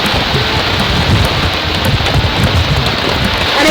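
Heavy rain pours down steadily on an overcast, cloudy day, a dense, loud, continuous hiss of drops with no pauses and no voices.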